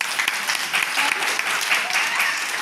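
Applause from an audience at a Children's Day event at a Bal Bhavan, steady dense clapping filling the moment at a fairly close, even level with no talk.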